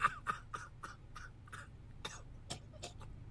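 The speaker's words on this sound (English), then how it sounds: "That second one was a real cough." A man in a home setting gives a series of about a dozen short, dry coughs and throat clears, spaced fairly evenly and close to the microphone.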